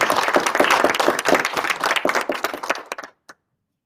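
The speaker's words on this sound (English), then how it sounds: "let's give the people a round of applause" A business chapter meeting audience gives a round of applause: loud, dense clapping from a crowd that thins and fades out, ending with a few last scattered claps.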